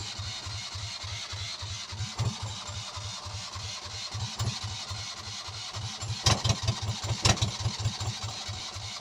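A catamaran's engine started by push button, cranking and catching into a steady rhythmic chugging idle, close and fairly loud, with a few sharp clicks and no talk.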